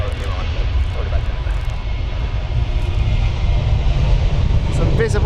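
An airliner delivered in 2012 rumbles steadily at Stansted Airport, a loud, continuous low engine roar filling the whole stretch, with faint voices beneath it.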